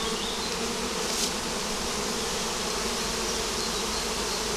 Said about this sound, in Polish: Tu już są pszczoły przeniesione.